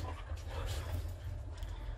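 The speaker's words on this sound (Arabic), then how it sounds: "الكلاب بتعضني من رجلي" Dogs pant and play close by, nipping and biting at a person's leg, with continuous quick breathing and small scuffling sounds.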